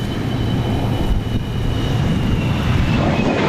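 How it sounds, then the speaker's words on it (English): An F-104 Starfighter jet passes overhead with a loud, sustained roar and a thin whine riding on top. The sound holds steady and fills the whole stretch without any voices. "A very nicely painted up F-104 Starfighter."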